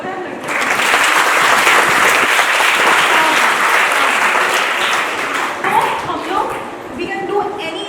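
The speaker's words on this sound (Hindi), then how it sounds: "तालियां बजा दो यार लड़के." Students at a self-defence programme event clap loudly together, a dense burst of applause that holds steady for several seconds before thinning into scattered claps near the end.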